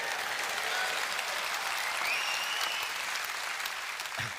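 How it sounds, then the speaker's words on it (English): A crowd claps steadily at a Reform UK party conference, a loud, continuous sheet of applause that lasts the whole few seconds. "you can clap for that as well"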